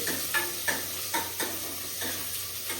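Half an onion being fried and stirred in a pan in a home kitchen: a quiet steady sizzle with regular scraping stir strokes about every third of a second, no voices.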